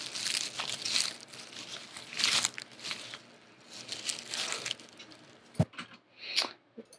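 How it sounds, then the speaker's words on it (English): Leaf crunching foley sound effect: dry crinkling, crackling bursts in irregular handfuls, close and fairly quiet, with one sharp snap near the end and no talk. "I have, I believe, the leaf sound effects."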